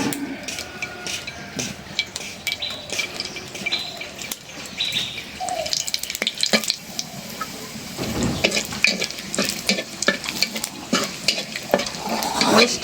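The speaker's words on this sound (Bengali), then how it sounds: "তেল দিয়ে দিলাম এখন দিয়ে দেবো শুকনো মরিচ" Dried red chilies fry and crackle in hot oil in a home kitchen, a steady sizzle with stirring scrapes and clatter rising louder toward the end, with no talking.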